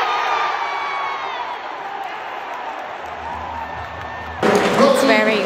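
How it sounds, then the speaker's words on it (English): Packed crowd at a sold-out Six Nations rugby match in a stadium, a broad steady roar of cheering and shouting that swells louder near the end, with voices mixed into the din. "we're currently all cheering for England"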